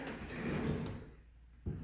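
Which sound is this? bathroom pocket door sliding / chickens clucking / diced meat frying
bathroom pocket door sliding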